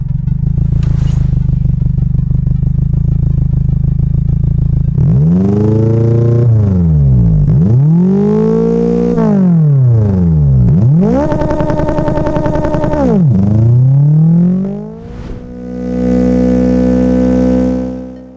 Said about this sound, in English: what is the best place to get a great V8 engine sound?